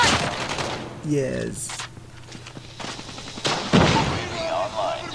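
Rapid bursts of gunfire crackle in a hardpoint-mode match of a video game shooter, interleaved with footsteps and game effects, while a player shouts briefly over the action.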